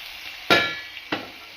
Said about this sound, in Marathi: आता कांदा लाल भाजून झाल्या, त्यात भाजी टाकते.